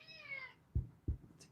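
A house cat gives a single clear meow close by, then a couple of soft thuds follow in a quiet room.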